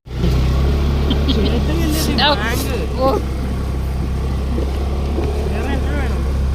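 A scooter engine hums steadily and close while carrying jackfruit on a village road, with a voice talking over it and wind noise throughout.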